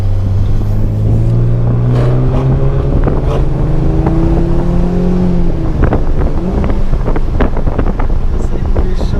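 An Audi A4 TDI 3.0 V6 S-line with a stainless full-tube exhaust and downpipe drones loudly, its engine note sliding down as the throttle is released sharply, with pops and crackles scattered through the falling tone.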